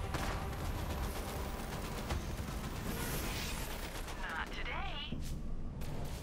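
Gunfire in Borderlands 3: continuous dense rattling shots and bursts across a noisy battle, with voices talking over the fighting and a warbling electronic effect near the end.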